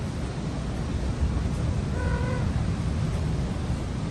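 A small kitten gives one faint, brief meow over a constant loud hiss of background noise.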